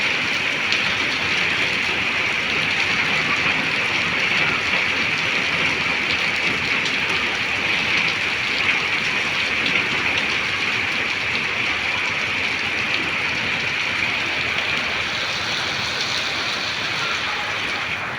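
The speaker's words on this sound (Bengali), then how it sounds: "বৃষ্টির শব্দ শুনতেও ভালো লাগে। বৃষ্টি কিন্তু আস্তে আস্তে জোরে শুরু হয়েছে।" Steady afternoon rain falls on flower plants, a dense, even hiss of drops that holds at a constant, fairly loud level throughout with no pauses, talk or other sounds.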